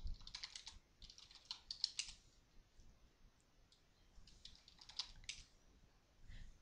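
Keys clatter on a computer keyboard as commands are typed into an Aardwolf MUD game, coming in quick, faint clusters of clicks separated by quiet pauses, with no talking.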